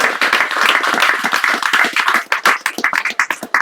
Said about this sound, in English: Let's give her another round of applause for a wonderful reading this evening.